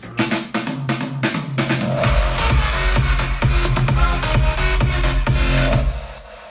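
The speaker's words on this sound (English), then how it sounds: "So it'll sound like this with the crashes and the impacts." Crash cymbals and hard impact hits land at the drop of a beat for an FL Studio track, kicking in around two seconds with heavy bass and bright wash sustained loudly before cutting off near the end.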